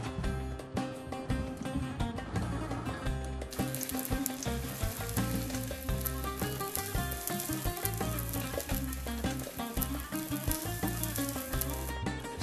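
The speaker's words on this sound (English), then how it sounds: "And you cut 2 kilos potatoes and slice. Clean it up and cut in slice. And fry." Sliced potatoes fry in a Greek home cooking class for moussaka, giving a continuous, low, even sizzle that runs steadily for the whole stretch with no talking.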